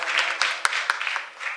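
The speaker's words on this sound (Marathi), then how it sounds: "एकदा गुरुजीसाठी एकदा जोरदार टाळ्या वाजवा" Audience applause for a guru at a Marathi devotional kirtan gathering, with a short burst of scattered hand claps that rises and fades, a few sharper claps standing out and a faint voice underneath.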